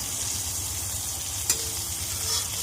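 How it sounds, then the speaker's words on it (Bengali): Oil sizzles steadily around brinjal slices frying in a pan, a constant close hiss with one brief tap partway through and no voices. "আমরা গ্যাসটাকে মিডিয়ামে দিয়ে বেগুনগুলোকে ভেজে নেব"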